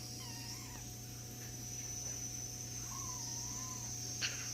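Two soft, wavering meows from a small cat, a second apart, over a steady hum with a sharp click near the end.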